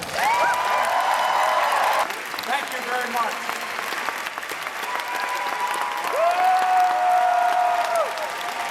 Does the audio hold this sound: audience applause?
yes